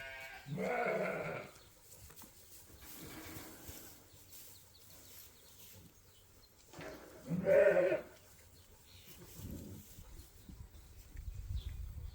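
Two sheep bleats ring out on a farm, one early and one midway, against a quiet outdoor background with faint rustling.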